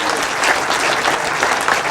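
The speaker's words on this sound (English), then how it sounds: "a round of applause for those twins" A crowd at a grasstrack racing testimonial event claps steadily for the twins, a dense, even burst of applause from many hands throughout.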